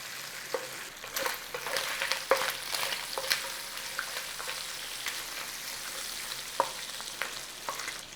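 Bacon renders slowly in a pan with a moderate, continuous sizzle, dotted with crisp pops and occasional clattering scrapes as it is moved around, close up and with no voices.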